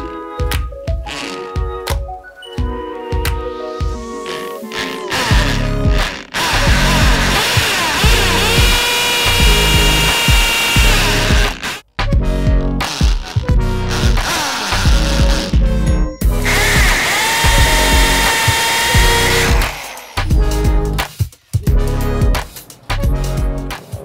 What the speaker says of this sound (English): This old school drill over here.